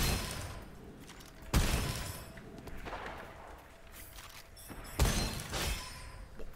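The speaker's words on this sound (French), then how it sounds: "Un ennemi qui a explosé." Enemies blow up in the Gunfire Reborn shooter game: two sharp, booming blasts several seconds apart, each followed by crackling debris over a constant layer of combat noise.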